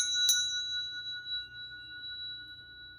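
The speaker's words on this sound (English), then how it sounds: "I'll call it the Tibetan prayer bell, usually is what it's called, and it has a higher frequency than the chimes" A Tibetan prayer bell struck once near the start, its bright metallic ring holding two steady high tones that fade slowly over three seconds in a quiet room.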